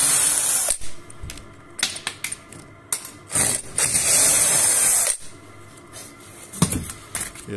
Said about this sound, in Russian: Сейчас можно открутить уголки.